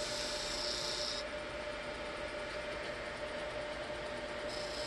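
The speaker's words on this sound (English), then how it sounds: "It is ridiculously sharp, and I love it for cutting these small inlay channels." A very sharp Woodpecker Ultra Shear detail tool cuts a small inlay channel in a turned wood memorial ring on a lathe, a steady, faint hissing scrape that continues without a break.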